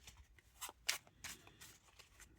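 A deck of Bicycle playing cards, about three years old and fairly thin, is shuffled by hand nearby: a series of quick, soft riffling and snapping bursts in an irregular rhythm, fairly faint, with no talking.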